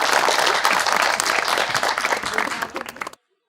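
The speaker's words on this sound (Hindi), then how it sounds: "तालियां जी सबसे पहले।" An audience applauds a Pakistani women's cricketer on a chat show, a dense burst of clapping that carries steadily for about three seconds before stopping suddenly.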